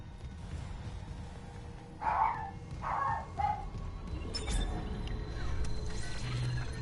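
A dog gives two or three short barks in the middle distance, moderately loud above a steady low rumbling background hum, with no talk.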